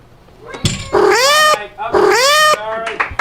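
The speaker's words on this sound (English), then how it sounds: "the first time the cat noise was played after someone went too long" A cat-yowl sound effect: two drawn-out, rising-and-falling yowls, loud and close, with short gaps and a brief thump before the first, played on a comedy podcast.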